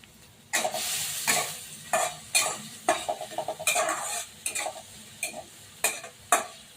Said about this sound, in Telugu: దీన్ని బాగా రోస్ట్ చేసుకోవాలి